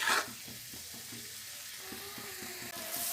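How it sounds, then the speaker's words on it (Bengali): Masala with cumin powder sautéing in white oil for a tiger prawn malai curry, a soft sizzle with scraping stirring strokes and a brief louder burst at the start and end. "অল্প একটু জিরে গুঁড়োও দিয়েছি কষিয়ে নেবো আমি সাদা তেলে রান্না করছি"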